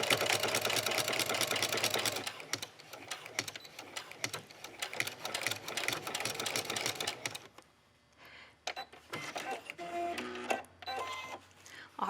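A sewing machine stitches a half-inch seam on a dog leash and cage pad, with short back-stitching bursts, running loud and steady near the start and then stopping as a voice talks over softer handling sounds.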